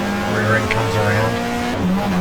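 A 1994 GTR2 Australian Manufacturers Championship race car at Mallala skids as its rear end slides around, with a sustained engine drone and tire scrub under a commentator's voice.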